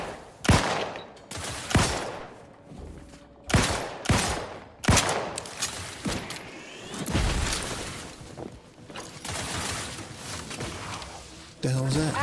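Heavy bursts of gunfire in the video game The Outer Worlds 2, loud shots cracking in rapid clusters, then trailing into rumbling impacts and a sweeping whoosh, with a voice briefly heard.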